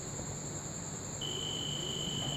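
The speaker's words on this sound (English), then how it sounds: "the buzzer which is situated inside the home, this is working" A homemade home security alarm circuit's buzzer sounds as a steady, thin electronic tone, with a second higher tone joining partway through.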